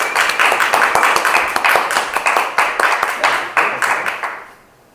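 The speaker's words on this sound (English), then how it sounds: "would everyone give him a round warm of applause?" A small audience at an outreach talk claps together, sharp individual hand claps forming a lively round of applause that continues steadily, then fades out near the end.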